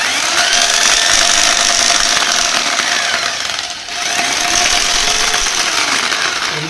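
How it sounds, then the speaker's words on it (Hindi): Electric hammer drill powered from a battery-less inverter, running loud and steady with a harsh, continuous hammering buzz throughout, briefly dipping in the middle before resuming, with no talking. "मैं आपको ये हैमर ही चला के बतला देता हूँ।"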